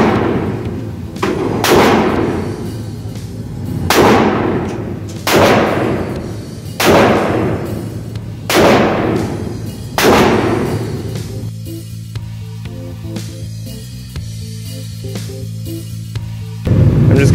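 Six loud, sharp rifle shots fired from a rifle with an ATIBAL Velocity 1-4x sight at a 25-yard range, evenly spaced about every one and a half seconds and each followed by a booming echo, then a quieter stretch.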